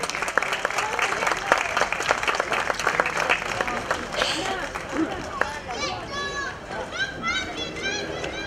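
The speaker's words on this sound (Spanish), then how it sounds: "Un aplauso para él" Applause from an outdoor garden concert audience for a swing group, dense clapping mixed with children's voices and crowd chatter, with someone speaking over it.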